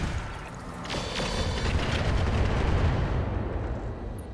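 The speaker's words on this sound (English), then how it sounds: "Our Boar's Head is going to continue to drop artillery on this Kodiak." Artillery barrage from a Boar's Head mech pounding a Kodiak in the RogueTech mod of BattleTech, a continuous rumbling stretch of booming impacts with sharp crackling bursts, steady and fairly loud throughout with no talking.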